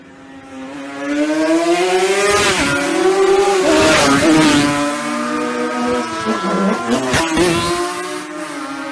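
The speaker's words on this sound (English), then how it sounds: "here is some more of the two-stroke riders in this race" Two-stroke racing motorcycles scream past at the Isle of Man TT road race, their high, buzzing engines rising and falling in pitch as they sweep by close and loud, one after another.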